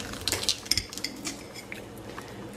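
A knife slices through a block of fresh yet firm cheese, giving a few quiet, close scraping and clinking contacts in the first second, then faint handling noise.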